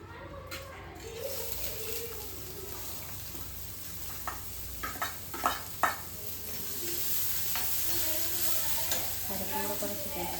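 Chopped stems sizzle in a hot pan with a continuous close frying hiss, punctuated midway by a quick burst of utensil scrapes and clatter, while a voice murmurs faintly near the end.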